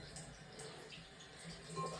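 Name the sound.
water being added to quilting fabric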